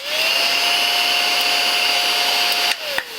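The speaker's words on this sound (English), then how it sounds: "But I have this little vacuum." A small, cheap handheld vacuum with stiff brushes runs across a cutting mat in a sewing room, giving a steady, close motor whine that cuts off near the end, followed by a brief click.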